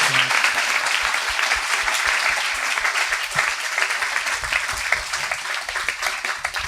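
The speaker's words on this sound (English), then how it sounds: "let's go ahead and give them another round of applause" Sustained applause from a crowd at a panel discussion, steady dense clapping filling the whole stretch without pause.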